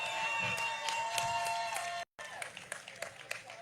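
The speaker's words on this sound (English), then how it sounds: "I'm glad we got one person clapping for the next generation." A lone person claps at a recovery day event, giving a quiet run of separate claps over soft crowd murmur, with a brief cut of silence partway through.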